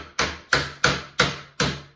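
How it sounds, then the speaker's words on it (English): Five sharp hammer taps drive a glued wooden peg into its hole, evenly spaced about a third of a second apart, each a crisp close knock that decays quickly, with a faint low hum underneath and no talking. "tap it with the hammer, and we've got one peg ready to go."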